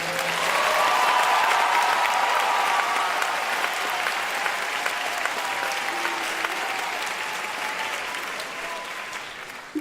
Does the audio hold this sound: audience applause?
yes